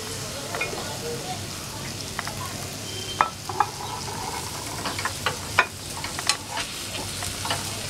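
Chopped capsicum is stirred with spices in a frying pan, making a steady close sizzle punctuated by sharp spatula scrapes and taps against the pan.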